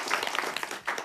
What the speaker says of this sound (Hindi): वेरी गुड, एक बार ताली बजा दो